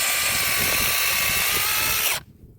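ProCraft cordless chainsaw with a short bar cutting wood, a loud, close, high-pitched motor whine under load that holds steady for about two seconds and then stops abruptly, leaving near silence.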